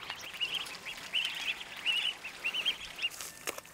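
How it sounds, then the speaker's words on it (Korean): Ducks raised for duck-farming on a rice paddy quack in short repeated bursts, several calls in quick succession at moderate distance over faint outdoor background noise. "일하는데 웬 오리인가 싶은데요"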